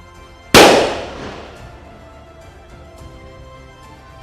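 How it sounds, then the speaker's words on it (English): A single sharp firework bang bursts loudly before a schools rugby league match between two college teams, its crackling tail fading over about a second into a quiet crowd background. "Plenty of fireworks"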